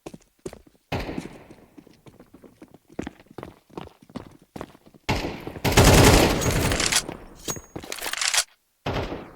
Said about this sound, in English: Dave exchanging shots with Shadows, but not able to find anything.